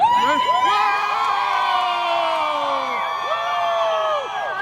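A stadium section crowd screams and cheers together in one loud, sustained roar of many voices with whoops and shouts rising and falling, close and continuous throughout.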